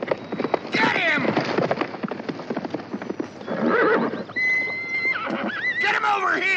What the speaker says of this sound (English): Stop that horse! Stop him!